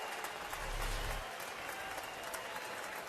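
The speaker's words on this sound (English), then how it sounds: "Now, nice round of applause for former Astro Lance Berkman" A large, distant baseball stadium crowd applauds in a broad, steady roar of clapping that fills the whole stretch without pause.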